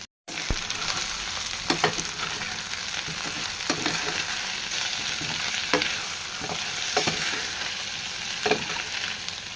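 Spiced yam (seppankizhangu) fry stirred in a pan with salt and chili powder: a steady oil sizzle runs throughout, broken by sharp spatula scrapes and clicks every second or so.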